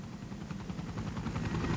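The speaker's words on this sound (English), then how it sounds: "No, the CGI helicopter left us." A helicopter in the Resident Evil Director's Cut video game flies off with a faint, rhythmic rotor chop that thumps steadily throughout the short stretch.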